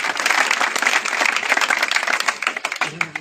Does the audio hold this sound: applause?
yes